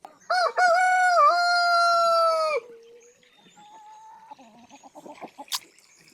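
A rooster crows loudly and close, one long drawn-out call, followed by quieter scattered clucks from chickens and soft bird sounds, likely ducks.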